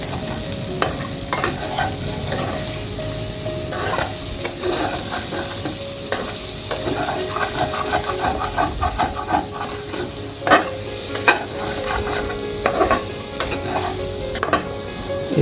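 A fish head being stirred with spices, ground ginger and garlic in a hot pan for a mung dal and fish head muri ghonto: continuous loud sizzling and frying hiss with repeated scraping stirs throughout, no talk.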